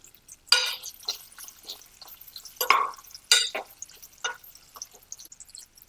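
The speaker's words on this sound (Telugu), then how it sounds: "ఒక రెండు మూడు నిమిషాలు వీటిని ఆయిల్లో వేయించుకుందాము" Sliced Indian gooseberries (amla) frying in oil for a Telugu-style dal, with scattered sizzles, crackles and stirring taps, fairly faint and close, with no talk.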